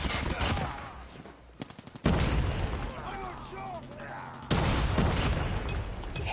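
Call of Duty Mobile gunfire, bursts of rapid shots with sharp cracks and booms separated by quieter gaps, with a voice talking underneath.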